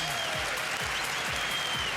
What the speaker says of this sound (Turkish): Her iki sporcuya da adeta bir alkış tufanı koptu